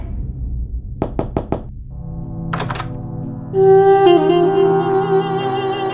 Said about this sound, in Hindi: जय प्लीज दरवाजा खोलो।